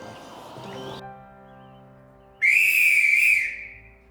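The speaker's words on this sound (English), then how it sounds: "Yes, even the guard's whistle needs recording." A loud, shrill railway guard's whistle blast lasting about a second, sharp and piercing, following a steady low hum of an idling train engine as it prepares to depart.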